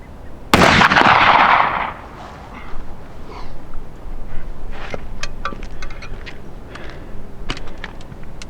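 A .54 caliber under-hammer black powder rifle loaded with 100 grains fires a single loud, booming shot outdoors, followed by a long rumbling decay and faint scattered ambient noises.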